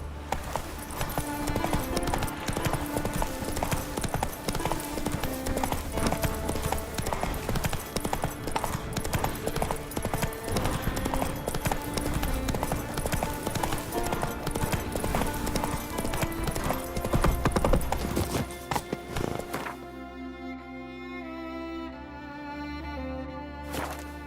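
Horse hooves clip-clop in a steady rhythm throughout a ride in The Witcher 3 video game, loud and continuous over a musical backdrop, fading out near the end.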